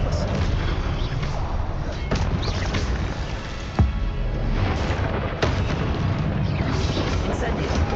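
Repeated Expelliarmus spell casts in the Hogwarts Legacy video game, heard as loud booming blasts over a dense, steady roar, with a sharp crack near the middle and another hit later.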